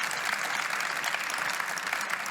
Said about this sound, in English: Please join me in a big round of applause for our fantastic panel.